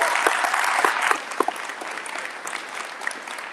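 Audience applause at a district State of the District event, a dense steady round of clapping from a crowd that tapers slightly toward the end, with no talk over it.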